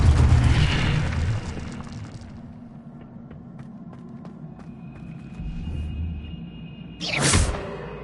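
Incendio fire spell cast in a PS4 game: a loud whooshing burst at the start fades into a sparse tail of faint clicks, followed by a second sharp blast near the end.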